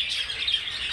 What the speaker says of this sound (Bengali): কিছু লাভবার্ড, ওটা ডিম নিয়ে বসে আছে লাভবার্ডটা